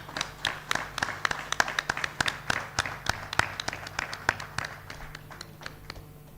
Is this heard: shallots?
no